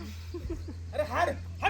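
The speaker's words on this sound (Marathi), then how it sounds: "मी गाडी लावायला कुत्रा आलं पळ पळ पळ" A dog barks and yips in a few short bursts near the end, heard alongside people talking over a steady low hum.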